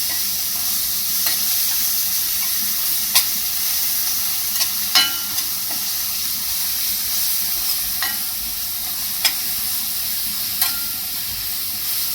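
Green spice paste for katvada sizzles and fries in a hot pan, a steady close hiss broken every second or so by soft scraping clicks of stirring.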